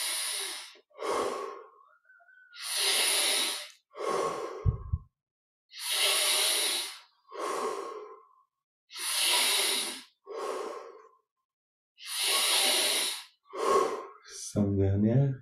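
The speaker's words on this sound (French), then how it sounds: "prenons un peu plus d'oxygène à chaque fois" Deep, slow breaths during a guided meditation, loud and close, each long inhale and exhale rushing in a steady rhythm of about eight breath cycles with short pauses between them.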